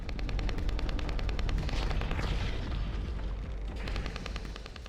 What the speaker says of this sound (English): sniper rifle feels okay